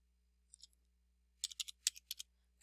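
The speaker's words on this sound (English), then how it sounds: "I'm going to type in condominiums" Light clicks of typing on a computer keyboard, a short pair of taps followed by a faster burst of keystrokes, faint and close in an otherwise quiet room.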